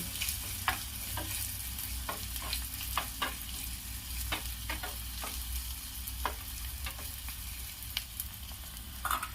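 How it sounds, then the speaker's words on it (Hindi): Steady sizzling of onions frying in a pan for sambhar, with frequent clicks and scrapes of stirring throughout, close and fairly quiet, no talking. "इसे बहुत डीप ब्राउन नहीं करना है प्याज को, केवल गुलाबी होने तक फ्राई करूंगी।"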